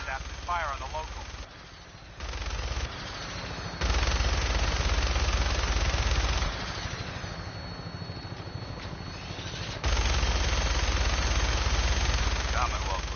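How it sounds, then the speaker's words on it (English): Minigun fired from an aircraft in Fallout 4: long, dense roaring bursts broken by short gaps, over a steady engine drone, with a voice talking at the start and end. "That minigun in front of you is loaded and ready to fire"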